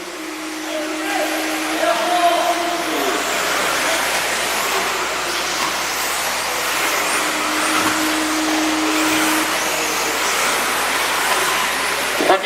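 4WD race cars in a Coupe de France 2016 final, a continuous high-pitched whine of racing motors with shifting pitch sweeps as cars pass, steady and loud throughout.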